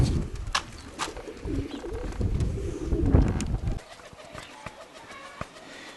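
Pigeons cooing in low, repeated rumbling coos, with scattered chirps and soft rustling around them.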